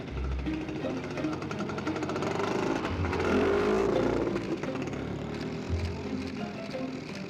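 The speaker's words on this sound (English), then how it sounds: "a quirky, noisy amphibious car called the Penguin" The rough, noisy engine of an amphibious car chugs and rattles loudly, with rhythmic knocking and a swell of revving in the middle, fairly close and continuous.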